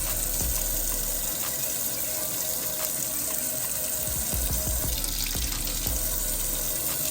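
Hot water runs steadily from a newly replaced kitchen faucet into the sink, a constant rushing stream with a few faint clicks and knocks underneath.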